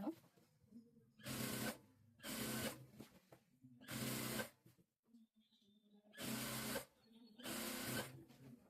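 Sewing machine stitching saree fabric for an umbrella dress, running in four distinct loud bursts of about a second each, separated by quieter pauses with faint handling sounds.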